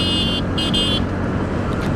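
Dense road traffic hums steadily throughout, with a couple of short horn toots near the start and faint ones near the end, heard from a scooter (TVS Ntorq XT) moving through busy streets.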